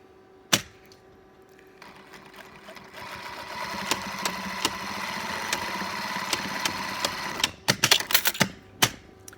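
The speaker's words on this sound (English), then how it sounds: "So I'm going to just go ahead and sew it." A sewing machine stitches a fabric headband for medical masks. It starts after a sharp click, then runs as a steady mechanical whir of rapid needle strokes for several seconds and ends in a burst of clicks and clatter.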